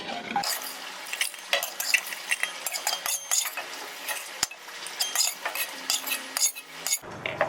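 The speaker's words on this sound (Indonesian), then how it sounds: "ini semua rempah-rempah kita sangrai hingga harum ya" Spices dry-roasting in a pan for beef rendang, stirred with a utensil that scrapes and clinks against the pan in a steady, busy rhythm close by, with no talk.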